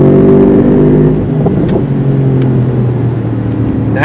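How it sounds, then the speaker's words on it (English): A 2023 Mercedes-AMG SL 55 engine blips and revs loudly on downshifts close by, a smooth deep roar with rising throttle bursts. "Sounds like one of their IMSA freaking GTD race cars. Super smooth on the downshifts."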